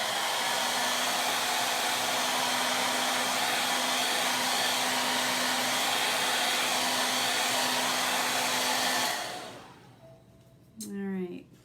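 A hair dryer blows on paste over a chalk stencil, a loud, steady, close whoosh lasting about nine seconds before it cuts off, followed by a brief clatter.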